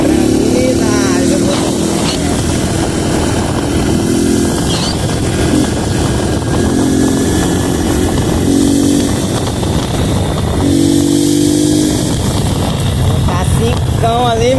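Honda Pop 110 motorcycle engine revving and running steadily through gear changes on a ride, loud and continuous, with the pitch rising and falling and some voice under the engine.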